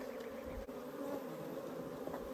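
Honeybees hum steadily inside an opened hive while drone comb is checked for mites, a close, continuous buzz with one brief dip partway through.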